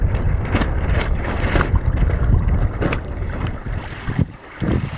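Strong wind roars across the microphone aboard a Hobie catamaran in rough water, with a loud continuous rush, gusty surges and the wash of waves, and no talk.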